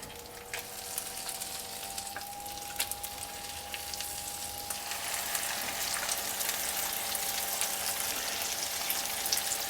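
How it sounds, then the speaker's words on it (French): Veal shank sears in hot oil and butter in a nonstick frying pan, a soft, steady sizzle that grows slightly louder and denser over time, fairly quiet with no talking. "On a fait chauffer de l'huile avec un peu de beurre dans une poêle anti-adhésive. Et on va marquer la viande en cuisson."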